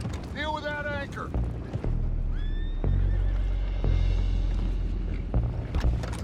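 Horses whinny and neigh in the Red Dead Redemption 2 video game, one clear close whinny followed by a second, with hoof clatter and a low rumbling ambience, and voices speaking over the scene.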